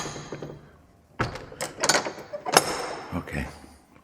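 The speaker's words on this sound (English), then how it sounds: "Close this door, as you do." An old wooden door in a 12th-century medieval chapel is pushed shut, a sequence of close creaks, scrapes and knocking thuds ending in a solid clunk, with a voice briefly audible.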